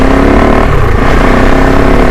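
A Kove 450 Rally motorcycle engine rides off-road on gravel, a loud, close, steady droning roar with a brief dip in pitch as the throttle eases, then holds.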